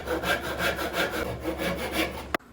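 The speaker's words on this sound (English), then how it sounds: "I'm just going to use a saw to cut out 2 sides of the joint." A hand saw cuts wood for a half lap joint in a DIY wooden fish pond build, its steady back-and-forth strokes rasping in a regular rhythm before ending with a brief knock.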